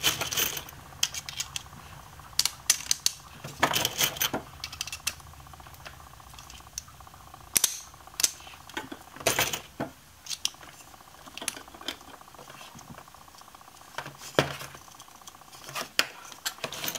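Plastic clicks, taps and clatter come in irregular bursts as servo motors are fitted to 3D-printed leg parts of a Spot Micro robot, close and moderately loud, with no talking.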